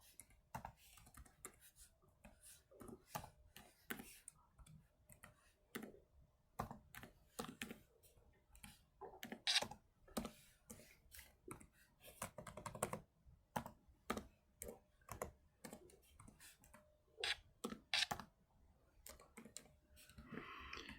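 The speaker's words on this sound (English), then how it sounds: "We'll start typing in numbers here." Numbers being keyed into a spreadsheet on a computer keyboard, heard as steady bursts of close, crisp key clicks with short pauses between entries, and no talking.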